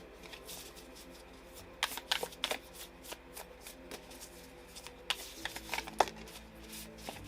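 Tarot cards shuffled by hand, a soft continuous riffling with sharper flicks and snaps clustered in bursts, close and quiet with no talking.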